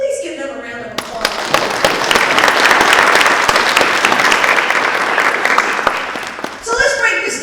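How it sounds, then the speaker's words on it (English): Sustained audience applause at an International Women's Day event, loud and dense throughout, with a voice breaking in near the end. "Please give them a round of applause."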